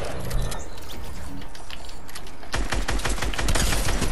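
Fortnite Battle Royale gunfire: rapid, clattering bursts of shots, sparse and lighter at first, then a dense, loud automatic volley in the second half.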